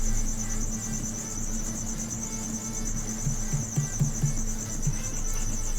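Crickets kept indoors chirp in a continuous high, pulsing trill that runs steadily beneath faint low room hum and a few soft clicks.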